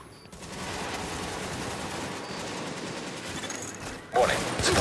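Sustained gunfire in the game The Division, a steady wash of rapid shots at even loudness, joined near the end by a louder, sharper burst.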